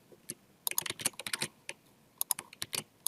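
Rapid keystrokes on a computer keyboard as values are typed into software, sounding close and crisp in uneven bursts with a short pause in the middle.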